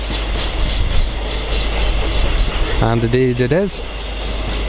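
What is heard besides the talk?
Freightliner class 66 freight train passing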